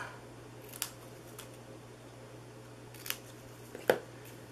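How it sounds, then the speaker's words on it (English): Scissors trim the paper border edges for a flip top box, a few quiet crisp snips spaced apart, the last one a little sharper, with a low hum behind and no talking. "for the borders, we're going to just trim the edges here on both of those"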